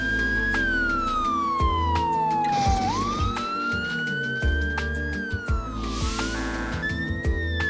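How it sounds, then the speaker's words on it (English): A wailing Toronto police car siren sweeps up and down over heavy traffic noise at an intersection, loud and close, with a horn-like blare cutting in briefly. "As the police car approaches this intersection, these drivers just stop where they are"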